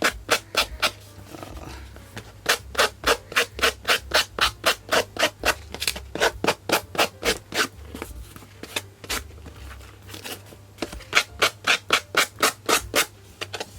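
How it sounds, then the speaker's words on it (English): A paper craft writing board rubbed down by hand, giving a fast, steady run of close, crisp scraping strokes, roughly two per second, with a short pause near the middle and no talking. "I just need to give it a little rub down"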